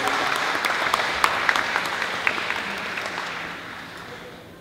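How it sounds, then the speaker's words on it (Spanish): Audience applause for the mayor at a municipal philharmonic orchestra presentation, a crisp crowd of hands clapping with a few sharp individual claps standing out, gradually thinning and fading toward the end. "regáleme un fuerte aplauso a este hombre,"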